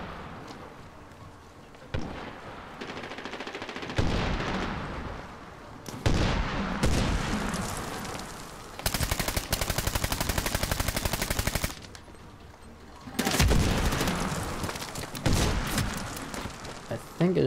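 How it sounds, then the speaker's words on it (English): Enemy gunfire in Medal of Honor: Warfighter multiplayer comes in repeated loud bursts and rattling volleys, with brief lulls between them, while someone talks over the shooting. "up on that hill where the enemies are shooting down at us"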